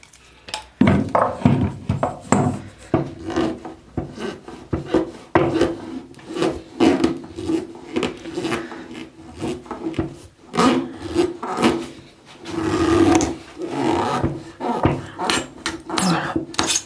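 Rasping, rubbing twists of a rubber handlebar grip being worked loose after a screwdriver was slid underneath and spray applied, on a 1980s Dany Cross 3000 bike; close, irregular scraping bursts continue throughout with no talk.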